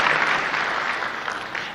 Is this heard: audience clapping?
yes